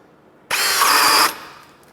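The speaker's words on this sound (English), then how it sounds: "This time switching to high gear, still in drilling mode." Ryobi cordless drill running in high gear in drilling mode, a loud close whine that starts sharply, holds for about a second and then cuts off, with no talk.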